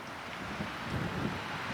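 Steady wind from a storm rushes and buffets against the microphone on a cold, misty homestead in Portugal, a constant broadband roar with no other sounds standing out.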